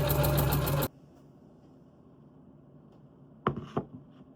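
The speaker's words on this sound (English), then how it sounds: "into my regular sewing machine, and I was just pushing it with my hands as I was sewing" A sewing machine stitches quilted puffy jacket fabric in a rapid, rhythmic burst under a second long, then goes quiet before two brief mechanical clatters near the end.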